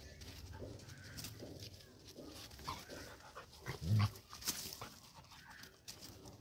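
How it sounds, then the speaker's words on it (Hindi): Two dogs play-fight outdoors, giving a low, close growl and a few scuffling snarls, with birds cooing faintly in the background. "ये हमारे पड़ोसी का कुत्ता है और ये हमारा। तो देखिए किस तरह से फाइट कर रहे हैं एक दूसरे से।"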